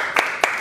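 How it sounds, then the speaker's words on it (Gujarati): A few sharp, separate hand claps from an audience at a Gujarati talk-show event ring out close by, spaced about a quarter second apart. "એકવાર જોરદાર તાળી મારા તરફથી."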